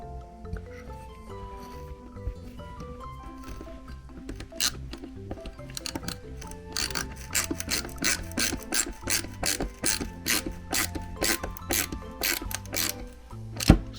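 Xiaomi Mijia 16-in-1 ratchet screwdriver driving a small self-tapping screw, quiet at first, then a rapid series of sharp ratcheting clicks in quick bursts, close and fairly faint.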